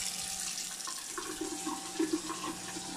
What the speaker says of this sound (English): I'm just gonna turn the water back on in case I need to rinse the spoon off again.